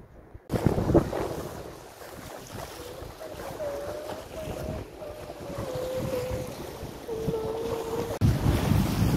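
Wind rushes across a sailboat in the Aeolian Islands near Lipari, a steady broadband roar with waves and microphone buffeting, louder gusts at the start and end, and a faint tonal whine in the middle.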